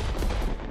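A sniper rifle shot fires in the video game Worms W.M.D, a loud, dense blast that fills the whole short moment with rumbling low-end energy and no voices.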